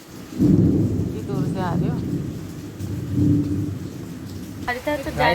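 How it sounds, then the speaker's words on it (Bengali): Heavy rain pours outside at night with rolling thunder, a steady loud downpour swelling in bursts, while people talk nearby indoors. "বাইরে প্রচণ্ড জোরে বৃষ্টি হচ্ছে, বিদ্যুৎ চমকাচ্ছে"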